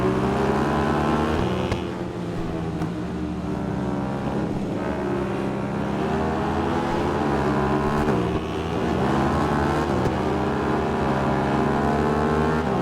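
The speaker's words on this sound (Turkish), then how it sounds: "Motorun sesi ne kadar tok böyle lan?" A Suzuki motorcycle engine in the Ride 5 racing game holds a deep, steady drone through the whole stretch, its pitch sliding up and down as the throttle changes, loud and continuous with no talk over it.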